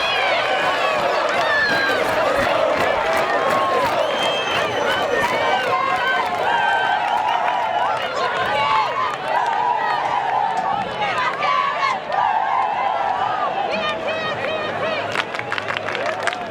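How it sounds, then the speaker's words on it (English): A Colombian crowd at a women's ultimate frisbee world championship final cheers and shouts in a continuous roar of overlapping voices, loud and close, with excited yells rising above the din. "The Colombian crowd pumped up right now"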